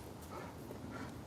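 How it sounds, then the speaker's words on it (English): A dog barks at a neighbouring dog outdoors, the short, moderately loud barks and yips repeating over a steady background. "He's barking at the neighbor's dog."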